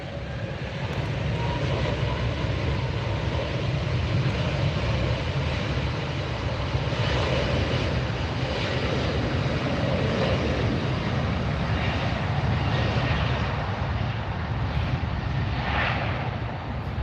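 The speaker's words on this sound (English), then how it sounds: "Our next arrival on the north side is going to be coming in from Monterrey, Mexico, United SkyWest flight. It's an E-jet." A United SkyWest Embraer E-jet arriving from Monterrey, Mexico, on the north side of LAX: a steady, loud broadband jet engine roar that holds for the whole stretch, with no talking.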